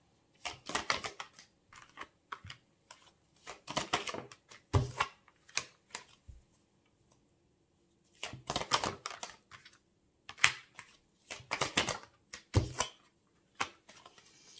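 Tarot cards being drawn and handled in bursts of crisp clicking and tapping, with intermittent clusters of sharp, close taps separated by quiet pauses and no talking.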